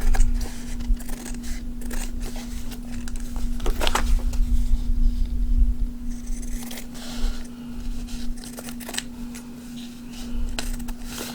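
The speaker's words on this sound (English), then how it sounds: "I'm just going to cut away the excess fabric off the sides here." Scissors snip away excess fabric along the sides of a mini notebook cover, with repeated close crisp cuts and rustling over a steady background hum.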